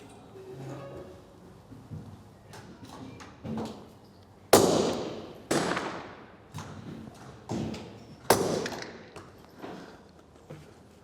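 Suppressed gunshots from ammunition tests at 50 metres, several muffled thumps spaced a second or so apart, two of them notably louder and sharper, with faint background noise between.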